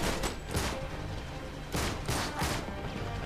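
Rapid bursts of gunfire in the video game Uncharted 3, during a sandstorm battle, with several loud volleys separated by short gaps over a dense, noisy game background.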